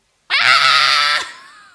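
A person's voice imitates a baby's loud, piercing scream, one sustained shrill cry about a second long, very close and harsh, cutting off abruptly.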